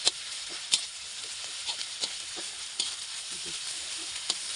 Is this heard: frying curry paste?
yes